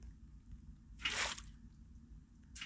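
A bucket scoops a tadpole from water in Minecraft, giving one brief, crisp splashing swoosh in a quiet scene, with a fainter splash following shortly after.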